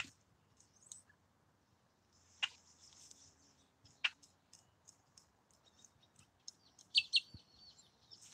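A bird at a lake gives sharp, repeated ticking calls and high chirps, fairly close, irregular clicks spread over a quiet outdoor background with no talking.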